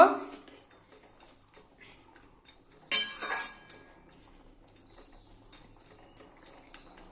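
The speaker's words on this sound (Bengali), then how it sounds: "এবার আমি মাছগুলো সব দিয়ে দেব। আবার একটু নেড়ে দেব।" A utensil clinks and scrapes in a pan while small fish cook with potatoes in simmering curry, quiet sparse taps followed by a louder metallic clatter in the middle.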